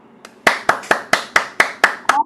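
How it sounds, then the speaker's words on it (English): Participants in an online Toastmasters club meeting applaud over video call, heard as about eight crisp, evenly spaced claps from a single nearby source, loud and distinct with no talking. "I request all of you to unmute and applaud, please."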